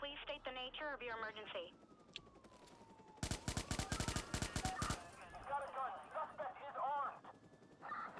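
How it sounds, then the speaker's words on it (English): A rapid burst of automatic gunfire in the Watch Dogs video game, a dense run of sharp close shots lasting about two seconds, with voices and a siren-like tone before and after. "Help, there's gunfire! We need police!"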